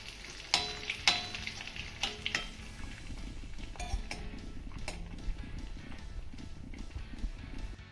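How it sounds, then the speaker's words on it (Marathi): Cashews, almonds, dried coconut and raisins sautéed in a pan, with a steady low sizzle broken by several sharp spatula scrapes and clinks in the first few seconds, then softer stirring taps, close and alone without talk. "आता हे सर्व साहित्य आपल्याला पुन्हा 1 मिनिटभर चांगलं परतून घ्यायचंय"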